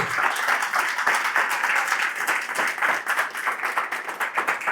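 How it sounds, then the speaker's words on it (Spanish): Sustained applause from a church congregation, a dense wash of many hands clapping steadily at a fairly loud, even level for the whole stretch. "Den un aplauso al Señor Sequero, hágalo, porque se lo merece."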